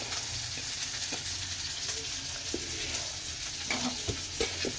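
Fish sizzles steadily in a hot pan, a continuous close frying hiss broken by scattered crackles and a few stirring scrapes, with no talking.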